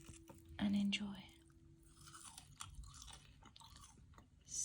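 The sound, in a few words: eating crunchy homemade french fries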